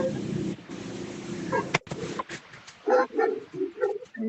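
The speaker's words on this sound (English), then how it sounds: "Whose dog is it?" A dog barks in a few short bursts toward the end, after a stretch of noisy background with voices, heard at moderate volume amid room noise.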